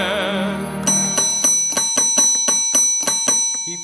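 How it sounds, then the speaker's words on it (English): A bell rings again and again in a rapid, even series of bright metallic strikes, roughly three per second, each one decaying briefly before the next. Before the strikes begin there is a soft tonal background. "I rang the bell"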